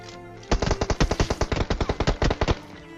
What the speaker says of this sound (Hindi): बिल्कुल एग्जैक्ट उसी जगह पे फायर कर रहा है जहाँ पे मैं हूँ, दीवार के पीछे